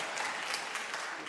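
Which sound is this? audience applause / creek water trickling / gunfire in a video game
audience applause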